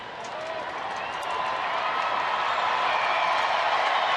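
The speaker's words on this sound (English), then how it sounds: "Crowd being implored by Chuck Morgan to make some noise, and they are complying." A large baseball stadium crowd at a Tigers at Rangers game roars and claps continuously, the noise swelling louder over a few seconds into a sustained wall of cheering.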